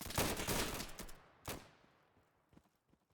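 Rifle volley at a ceremonial salute, fired on command: a loud rolling crackle of many rifles, then a single sharp crack, followed by a few fainter scattered shots.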